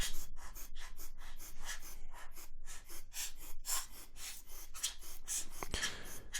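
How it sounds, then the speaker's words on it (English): Rocket blower puffing air across a Mamiya RB67 lens during cleaning, giving a string of short soft breathy bursts in steady rhythm, close and quiet, with no talking. "So you just want to vary where you're using this rocket blower, and also to the intensity as well"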